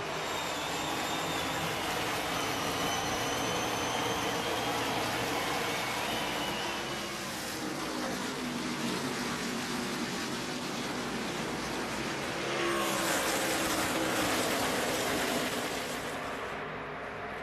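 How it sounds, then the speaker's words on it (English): Pack of 2010 NASCAR Nationwide Series stock cars roaring at the green flag of the Nashville 300, a loud sustained broadband engine drone that swells again toward the end. "The 5th race of the 2010 NASCAR Nationwide Series season is green."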